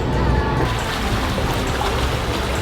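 A boat engine at full throttle on the water, a loud dense rumbling roar mixed with wind and rushing water, steady throughout with no breaks.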